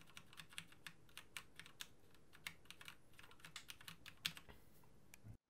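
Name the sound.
typing on Steelseries Apex M500 Cherry MX Red keyboard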